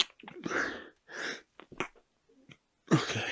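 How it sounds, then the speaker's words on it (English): A single stifled sneeze, held back in the throat and nose, comes in short bursts of breathy, snorting air with brief pauses between them, close and fairly quiet in a calm indoor setting. "Oh, I think I'm going to sneeze."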